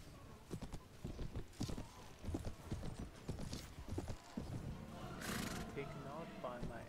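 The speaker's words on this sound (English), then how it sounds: "Oh wow, he's really fast on his horse." Horse hooves clip-clop steadily in Mount & Blade: Warband with the Phosphor mod, mixed with whinnies and dense battle noise. Galloping hoofbeats run continuously through the busy in-game soundscape.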